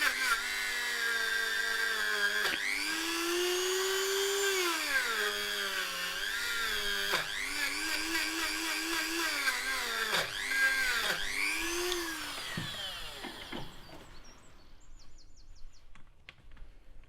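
A power drill whines continuously drilling a hole in a metal piece from a Peugeot 106 1.1 TU cylinder head, its pitch rising and dropping as the bit bites and eases, with several brief pauses before it winds down near the end.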